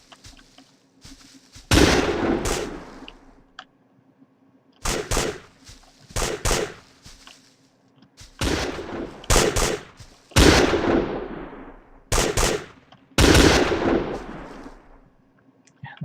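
Gunfire from computer-controlled teams shooting at each other in the video game GG, loud sharp bursts and volleys in uneven clusters with decaying tails and quiet gaps between them, with no talking.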